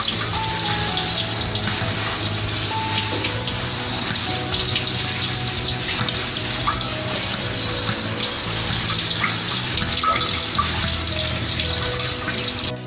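Hibiscus leaves and flowers washed under running water, a steady splashing tap stream with dripping and sloshing in a sink, continuous and close throughout with no talking.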